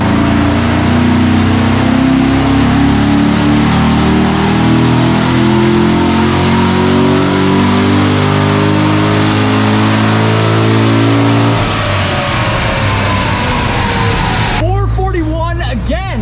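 A car engine on a dynamometer, making about 505 crank and 440 wheel horsepower, holds a loud, sustained roar that builds in pitch before dropping off sharply near the end.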